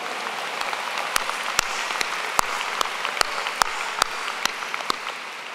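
A crowd applauding at a college convocation, a dense wash of clapping with a few sharp, louder claps standing out near the microphone throughout.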